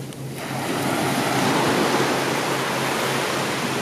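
Ocean waves break on a Gold Coast beach, a loud, continuous roar of surf and wash that builds within the first half second and holds steady, with some wind rumble.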